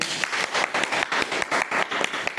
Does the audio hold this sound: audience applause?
yes